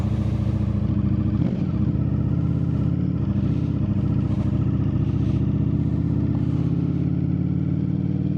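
A 2025 Ducati Streetfighter V4S motorcycle engine runs steadily under way, a continuous close, low rumbling drone with mild rises in revs and no talking.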